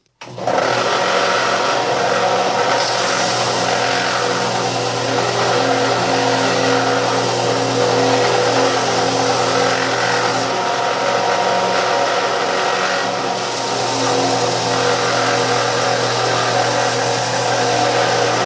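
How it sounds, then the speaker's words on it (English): A power sander grinds steadily on a small utility knife handle, a loud continuous whirring drone that holds nearly unchanged for the whole stretch, up close with no voices. "I think we're going to try to finish up the rest of this on the sander"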